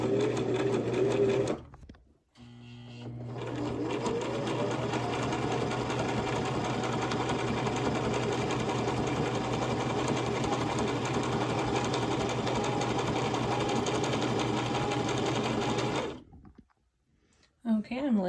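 Domestic sewing machine stitching fabric for an apron, a continuous close whirring, chattering run of about fourteen seconds between brief stops, with a short start and stop at the beginning and end.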